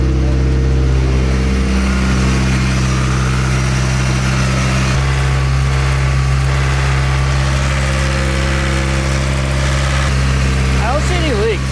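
A Chevrolet S15 engine, freshly repaired after a fire, idles steadily with a close, constant rumbling drone. Faint voices sit beneath the running engine.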